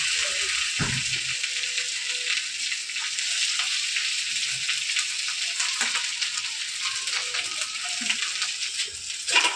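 Boiled potato frying in a pan for potato chop stuffing, a steady broadband sizzle with scattered scraping stir clicks throughout, close and continuous with no talking.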